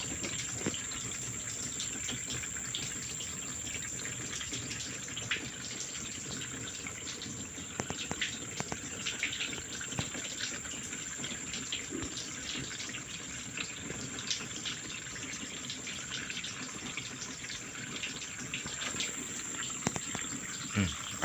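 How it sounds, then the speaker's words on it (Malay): Water pours steadily into the rear boot of a car during a leak test, a continuous splashing gush running throughout at moderate level without talk. "Air pun banyak."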